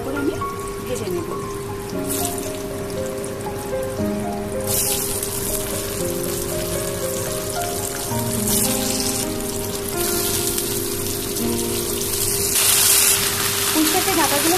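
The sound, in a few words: vegetables frying: potato, ridge gourd, eggplant, pumpkin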